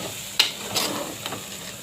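Eggplant pieces simmer and fry in a pan for a Telugu eggplant curry, with a soft steady sizzle broken by a few sharp clinks and scrapes of stirring, close and fairly quiet.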